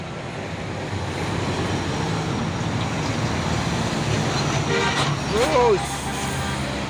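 Hino Dutro box truck rolling past on a road among steady traffic noise, its engine a continuous near rumble, with a brief horn-like tone toward the end and someone speaking briefly.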